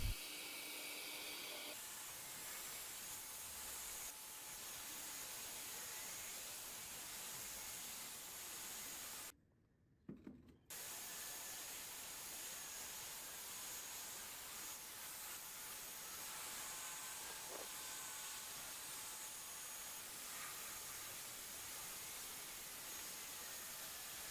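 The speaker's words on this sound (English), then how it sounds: "I love spraying on the top color." An aerosol can sprays black paint onto a thrift-store nightstand in long steady hissing bursts, close and fairly quiet, with one short pause partway through.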